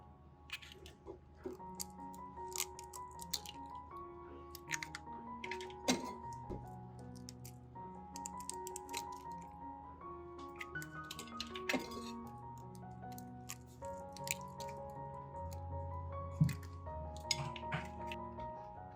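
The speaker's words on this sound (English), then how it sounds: "Take another bowl. Crack 4 eggs into it." Four eggs cracked into a bowl in a quiet kitchen: a series of light clinks and taps of shell on the bowl rim with small wet squishy drops, close and soft, spread across the clip with gentle background music.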